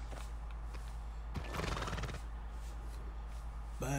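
A horse whinnies loudly in Red Dead Redemption 2, a single shrill quavering neigh rising up close, with faint hoof sounds and a brief knock near the end.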